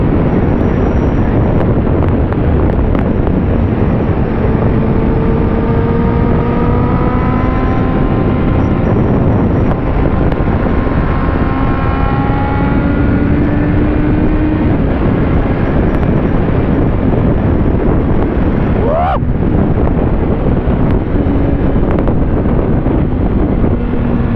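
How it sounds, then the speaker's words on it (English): Steady, loud wind buffets the microphone without a break on a breezy roadside at the TT course on the Isle of Man mountain road, with faint engine drones passing in the distance. "It's certainly breezy."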